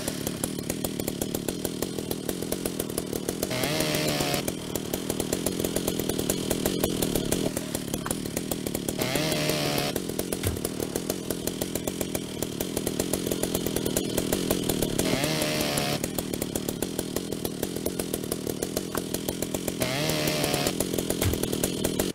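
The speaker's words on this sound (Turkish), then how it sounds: "testereyle de yapmamız gerekenleri yapaydık" Saw cutting through ship metal in the video game Ship Graveyard Simulator: a loud, continuous motorized buzz that surges in regular cutting passes roughly every five seconds, with no talking.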